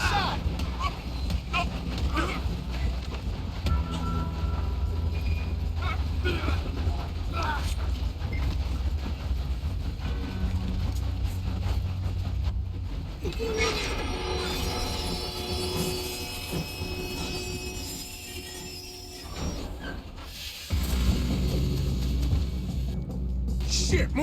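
Train rumbling along in the video game Red Dead Redemption 2, a steady low mechanical roar with clanking and rattling throughout, fairly loud and mixed with gunfire-like bursts.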